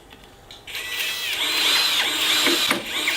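A power drill whirs up and drives a screw, the motor pitch climbing and dipping as it bites, loud and close with no talking.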